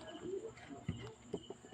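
Pigeons coo softly in low, throaty bursts, with a few short coos standing out over a faint, noisy background.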